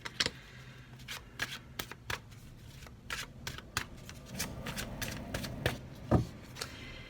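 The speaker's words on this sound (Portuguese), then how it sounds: "deixa eu virar aqui, porque dá aflição as cartas virar" Tarot cards being turned over and handled on a table during a Gemini reading, giving a series of soft, close papery snaps and slides at irregular intervals, mostly alone with faint background hum.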